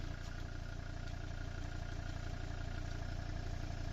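A Volvo XC90, a cheap written-off crashed example just started after sitting, idles with a steady low engine hum and faint clatter, constant and fairly quiet with nobody speaking.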